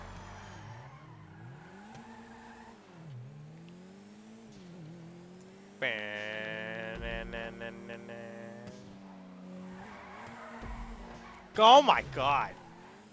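Cars drift around a GTA 5 race track, engines revving and whining up and down, with a brief burst of tire squeal near the end. A player talks and exclaims over the game sounds.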